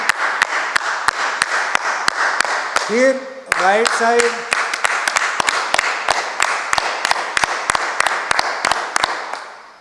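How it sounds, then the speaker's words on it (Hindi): A group claps in unison during a yoga session, with sharp, evenly paced claps that continue through the clip. An instructor's voice briefly speaks over them partway through. "थोड़ी सी तालियां बजाएंगे"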